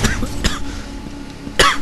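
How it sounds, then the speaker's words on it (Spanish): A person coughs a few times in short, harsh bursts over the low rumble of God of War 3 gameplay, with the last cough the loudest. "ah, tos"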